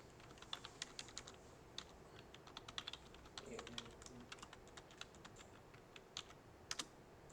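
Computer keyboard keys being typed in a rapid, irregular burst of crisp clicks, entering a web address into a browser; close and fairly quiet with no talking.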